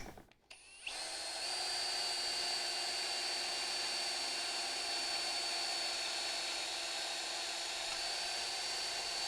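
A power drill runs steadily with a high, whining tone while a pocket door is being installed, following a brief clatter, then holds nearly unchanged at moderate volume with no voices.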